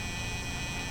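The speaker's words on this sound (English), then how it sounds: "they ring a buzzer" A door buzzer at a locked gas station in a video game, rung by a customer outside: a steady, continuous electric buzz held for the whole second with no pauses.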